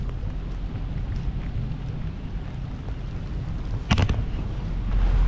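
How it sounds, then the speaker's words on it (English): Steady rain falls around a boat entering an empty canal lock, a continuous broadband patter with a brief sharper splash or knock near the end and no talk. "Well, it's still raining and it's getting hard to see."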